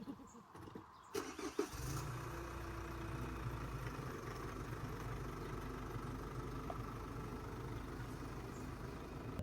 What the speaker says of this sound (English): You might need to turn engine on though.